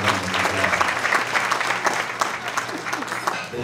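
Steady applause from an audience at a black tie gala keynote, dense clapping sustained at even loudness throughout with a faint murmur of voices underneath.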